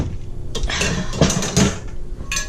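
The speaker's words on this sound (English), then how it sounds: "wonderful copper skillet to brown the Italian sausage" A copper skillet is handled on a stovetop while preparing to brown Italian sausage, a quick cluster of close metallic clanks and clatters over a couple of seconds.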